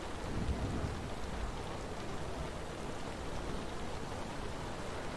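Steady, dense rain pours in a rainstorm with thunder in the city-building game Buoyancy, a loud continuous hiss with a low rumbling undertone throughout, no voices.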